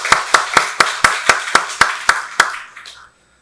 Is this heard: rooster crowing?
no